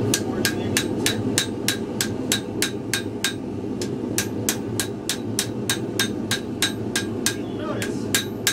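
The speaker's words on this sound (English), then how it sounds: "go over and get our final forging into the tip." Hammer blows forge the tip of a dagger blade on an anvil, sharp ringing metallic strikes at a fast, steady rhythm, loud and close over a constant forge roar, with no talking.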